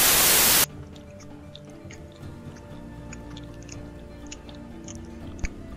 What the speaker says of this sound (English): Whoever the fuck is chewing like that, die in a hole